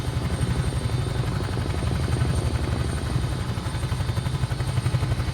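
In Microsoft Flight Simulator, a Huey helicopter's rotors beat with a loud, steady, rapid low thump alongside a continuous engine drone, with no talking over it.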